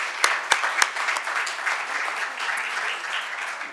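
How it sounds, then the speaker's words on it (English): A conference audience applauds the day's presenters, starting with a few sharp claps that swell into an even, sustained round of clapping throughout. "Everybody who presented today, one more round of applause."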